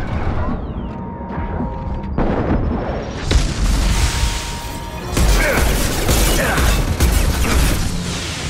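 A Mass Effect 2 explosion in the game booms and rumbles loudly, with a steady mechanical hum and crackling debris around it, across a dense, busy mix.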